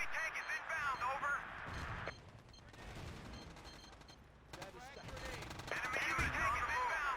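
Battlefield 2 conquest combat brings bursts of gunfire and artillery, rattling in loud volleys, fading into a quieter stretch of distant shots, then swelling into heavy fire again.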